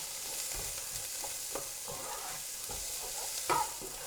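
Cumin seeds and onions frying in a pan, giving a steady low sizzle with repeated stirring scrapes and a louder clatter near the end, heard alone and close.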